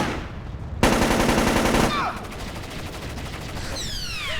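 Heavy automatic gunfire in the stealth shooter Splinter Cell: Chaos Theory, a loud burst of rapid shots that cuts off abruptly, followed by quieter scattered fire and whizzing ricochets in the background.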